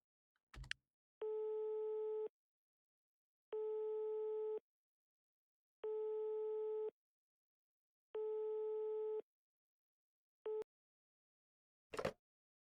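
Telephone busy signal in the horror game Pikabuu: Unhuman, loud and alone: four steady, evenly spaced tone bursts of about a second each, then a short clipped fifth beep before a click.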